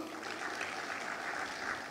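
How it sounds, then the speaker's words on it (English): Applause from a conference audience at the Nigeria Computer Society annual conference in Ibadan, a steady wash of clapping that sounds fairly soft and distant, with no talking over it. "I think Mr. Kola Okonla deserves a round of applause"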